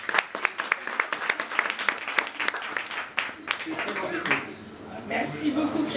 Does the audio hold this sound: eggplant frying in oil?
no